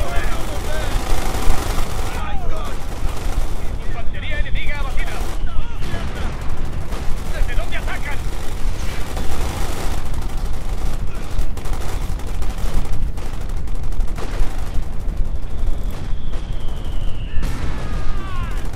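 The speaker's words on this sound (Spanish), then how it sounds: "En cuanto muera esa ametralladora" Sustained machine gun bursts and scattered gunfire in the World War II strategy game Company of Heroes 2, dense and loud throughout, with occasional booms and whistling shells layered over the battle.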